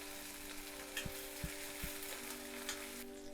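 Small shallots fry in a pan for a garlic and shallot kara kuzhambu, making a soft, even sizzle with a few light spoon knocks against the pan.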